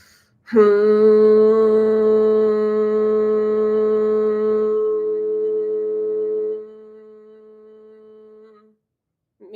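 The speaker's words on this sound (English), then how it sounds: "H-U-M, like humming, but your mouth is closed" A single steady closed-mouth hum held for several seconds, loud and close, fading out before silence.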